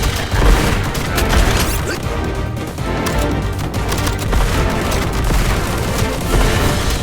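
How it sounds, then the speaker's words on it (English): Dense, continuous booming and crashing explosions with rapid gunfire-like bursts, loud and chaotic throughout, from a Contra: Operation Galuga battle. "Explosions are good. It's quite a big sound, and it flows."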